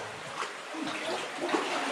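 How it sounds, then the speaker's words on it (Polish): Water pours and splashes steadily inside the main adit gallery of the Wolność mine, a continuous hissing flow with brief louder splatters, close and alone with no voices. "tutaj właśnie gdzie ta woda się leje"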